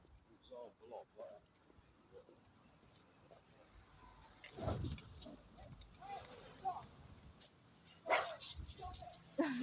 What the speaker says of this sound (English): My dog has spotted a couple of other dogs and he wants to follow them